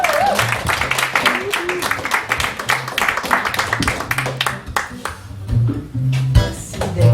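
Applause from a live audience at a poetry evening for a poet, with dense clapping running steadily through the stretch and some voices and murmurs mixed in.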